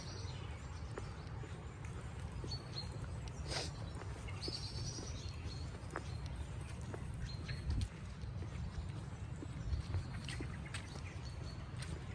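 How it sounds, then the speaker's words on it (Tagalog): Faint, scattered bird chirps in the UK countryside over a steady low rumble of outdoor background noise, with a few brief calls standing out now and then. "May mga huni ng ibon."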